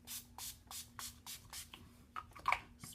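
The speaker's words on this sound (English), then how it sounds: "This is the Chill Makeup Setting Spray" Urban Decay Chill makeup setting spray mists out in a run of about eight quick, even pumps, close and crisp, with a few small clicks near the end.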